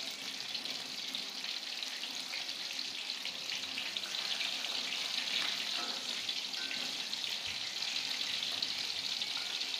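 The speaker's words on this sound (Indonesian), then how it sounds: "Aku goreng 8 biji, guys." Spicy stuffed tofu frying in hot oil, a steady close bubbling sizzle that carries on without a break, with no talking over it.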